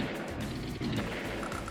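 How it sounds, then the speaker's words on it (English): In the Advance Wars strategy game, a Neo Tank attacks an anti-air unit with dense, loud gunfire and impact blasts that roll over each other in a steady burst, with no voices. "Neo Tank takes out anti-air."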